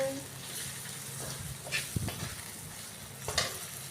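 Green chillies hit hot oil in a pan for a fish-head and bottle gourd curry, crackling and sizzling up close, with a few sharper spits and the scrape of stirring.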